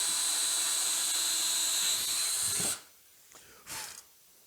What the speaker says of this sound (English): And then that way we can drill a hole in the center.